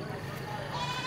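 A goat at a rural market in Cao Sơn gives a brief, wavering bleat over a busy background of crowd chatter.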